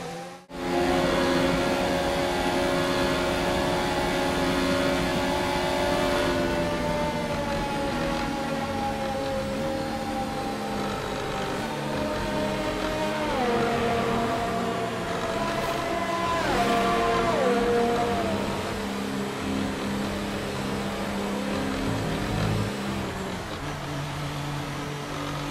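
Formula 1 car engines from the F1 2019 racing game, Azerbaijan Grand Prix, drone continuously for the whole stretch, with pitch rising and falling through gear changes and no voices over them.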